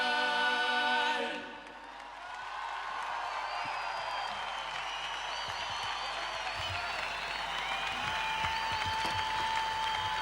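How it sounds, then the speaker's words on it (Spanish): Studio audience applause following a musical passage, starting after the music cuts and building into steady clapping with some cheering and voices underneath. "Fuerte el aplauso para ellos."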